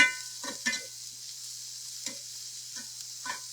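Onions and garlic soften in a hot pan, a faint steady sizzle broken by a few short scraping stirs.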